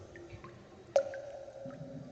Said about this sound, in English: The tap water is running.